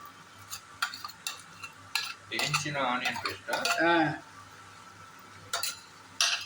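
Onion paste stirred into simmering rogan josh in a pot, with metal spoon scrapes and clinks against the pot in short bursts, a louder stretch of mixing in the middle, and a faint sizzle underneath.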